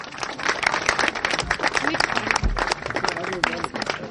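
Crowd applause at a kabaddi cup prize ceremony at a Sikh centre, a dense burst of clapping with cheering and murmured voices, loud and close.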